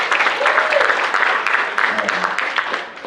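A comedy club audience breaks into a full round of applause at a stand-up show, dense steady clapping with some voices mixed in, holding for a few seconds before tapering off.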